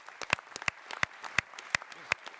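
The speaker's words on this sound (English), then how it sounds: "I want to give you all a round of applause for being here tonight." Sparse applause from a small audience at a political debate at New England College, a handful of distinct, separate claps at an uneven rhythm, close and fairly soft, in a quiet room.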